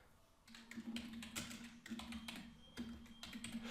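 Quiet, close computer keyboard typing in short bursts of rapid key taps with brief pauses between, against a faint steady hum, while writing an email.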